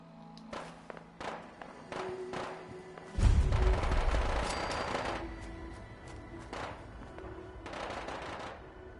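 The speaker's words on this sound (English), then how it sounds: "you hear some seriously rapid fire" Rapid gunfire in the video game Fallout 4, with scattered sharp shots giving way to a heavy, sustained burst of automatic fire with deep booming thuds, then more intermittent cracks, loud and close.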